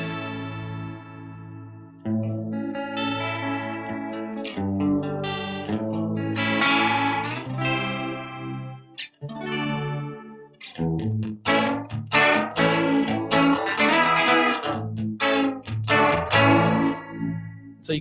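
An electric guitar is played through a Universal Audio flanger pedal switched to B mode, its chords and single notes warbling with a swirling modulation and sustaining over gaps between phrases.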